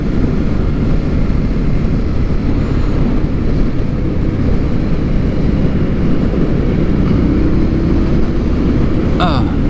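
Indian motorcycle on a dealer demo test ride, a steady loud engine drone mixed with heavy wind rush as it pulls and gathers speed, continuous throughout with no pause.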